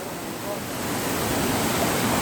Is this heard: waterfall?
yes